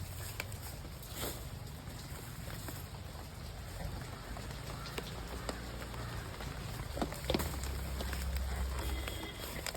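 Light drizzle falls steadily outdoors while garcinia (kudampuli) fruit is gathered from the ground, a soft even patter with occasional louder drops and faint rustling movement throughout.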